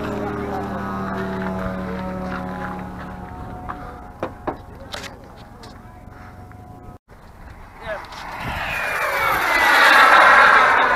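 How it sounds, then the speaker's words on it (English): Radio-controlled model jet flying at a Quartzsite RC air show on a sunny day with a crowd. Engine noise rumbles under nearby talking, then a loud turbine rush builds toward the end as the jet passes close. "Guy out here flying a jet."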